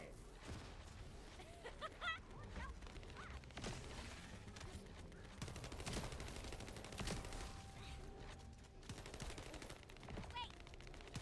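Rapid gunfire from the video game The First Descendant, dense bursts and sustained automatic fire with clanking reload mechanisms, loud and close, with occasional talk over the shooting.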